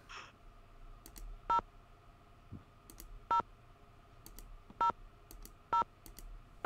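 A phone dials in the Nancy Drew video game Haunted Carousel, giving short evenly spaced beeping tones about once a second over a quiet background.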